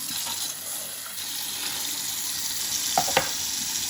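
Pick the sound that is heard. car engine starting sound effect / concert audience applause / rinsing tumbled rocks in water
rinsing tumbled rocks in water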